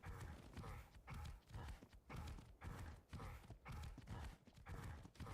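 A horse's hooves clip-clop at a steady, rhythmic gallop in the Ark video game, with repeated close thuds continuing throughout.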